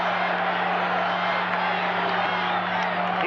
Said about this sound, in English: Crowd chanting, Charlie, Charlie.